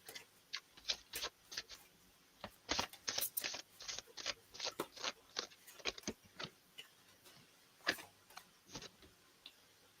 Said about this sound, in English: I'm going to shuffle some cards